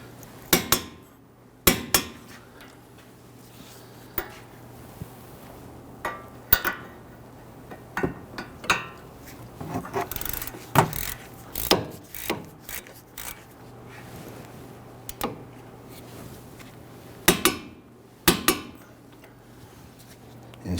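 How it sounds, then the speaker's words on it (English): Metallic clicks and clanks ring out as a torque wrench tightens wheel hub bolts on a Dodge Charger, sharp isolated hits spaced irregularly with a faint steady hum beneath. "let's go ahead and torque these down"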